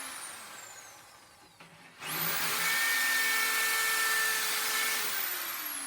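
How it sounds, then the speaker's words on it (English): A drill bores a hole through a shofar horn, whining up loudly after a quiet start and holding a steady high-pitched tone over the grinding of the bit into the horn. "and drill the hole."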